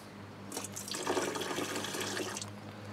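Petrol poured into a container while working on a non-starting 2.25 petrol Land Rover Defender 90, a short trickling liquid splash that builds and fades over a couple of seconds, fairly close.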